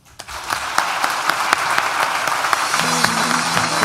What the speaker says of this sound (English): please join me in thanking people who helped you, whether they're sitting below you here now or watching from across the world, with a round of applause